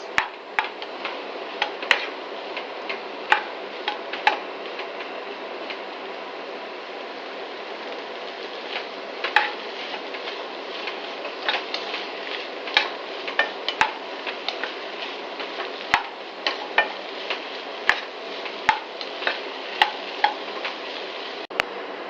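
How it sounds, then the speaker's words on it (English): Cauliflower and green pea curry stirred in a pan over high flame, a soft steady sizzle broken by frequent light scraping and tapping clicks of the spoon, close and without talk. "Again on high flame we will stir it for around 2 more minutes."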